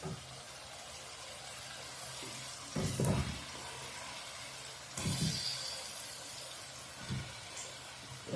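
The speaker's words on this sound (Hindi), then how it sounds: "अब हम इसके अंदर ऐड कर लेते हैं आलू और पालक।" Potatoes and spinach drop into fried masala in hot desi ghee, giving a soft continuous sizzle with several louder hissing bursts as each batch lands.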